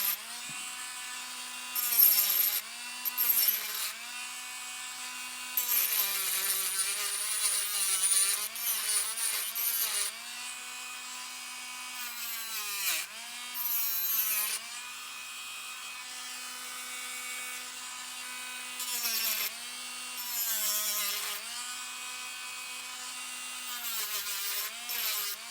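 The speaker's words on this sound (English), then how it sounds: "I'm just trying to take off those burrs without creating a lot of extra cleanup work." Hand filing of burrs off a metal spoon pendant, a steady scraping rasp that comes in repeated strokes and short bursts, close up and alone with no talking.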